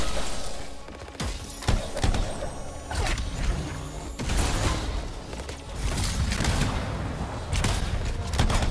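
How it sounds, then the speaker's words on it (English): Heavy turret gunfire pounds out in Anthem, loud overlapping bursts and crashing impacts coming in repeated waves, with whooshes and mechanical clatter mixed into the dense combat noise. "They brought a turret to the fight."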